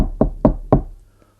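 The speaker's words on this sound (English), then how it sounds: "At night, come a chopping at the door." Three firm knocks on a door in quick, slightly uneven succession, close and hollow, followed by a faint fourth tap and silence.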